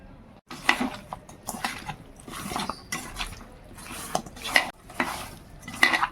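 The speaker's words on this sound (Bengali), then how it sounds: "মাংসতে একটু নুন আর হলুদ মাখিয়ে নেব।" Raw chicken being rubbed by hand with salt and turmeric in a bowl produces repeated close, wet squelching and rubbing bursts in an uneven rhythm, with occasional light clinks of a dish, no voices.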